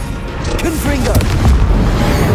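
Rumbling boom from a Confringo blasting curse in a Hogwarts Legacy fight with Rookwood, swelling loud and low beneath whooshing spell effects and short tonal chirps.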